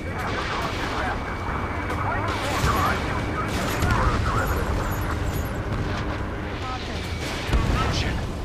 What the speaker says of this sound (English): they're firing at each other